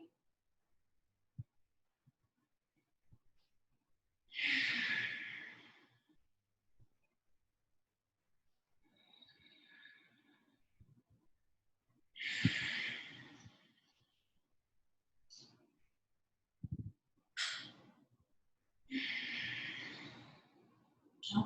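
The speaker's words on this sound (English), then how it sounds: "Tapping in for just a few moments into that Ujjayi, that Darth Vader, that ocean breath, listening to it, that slight constriction of the throat." Ujjayi ocean breathing, Darth Vader-style breaths drawn through a slightly constricted throat: several slow, hissing inhales and exhales separated by quiet pauses, close and soft.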